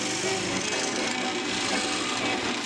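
A drill press bores holes in wood, giving a steady, close grinding and rasping of the bit cutting through the timber that lasts throughout.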